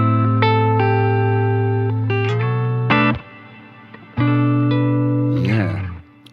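Sustained electric guitar notes and chords run through a plate reverb on a BOSS GT-1000 modeller, each ringing out with a wet, lingering tail. Two played phrases are separated by a short, quieter gap, and a wavering bent note closes the passage.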